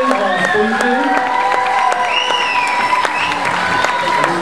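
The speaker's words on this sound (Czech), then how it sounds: "Ještě jeden potlesk pro skupinu Sojky a Spojky." Audience applauding at an awards results announcement, steady dense clapping throughout, with tonal music or ringing sounds layered over the claps.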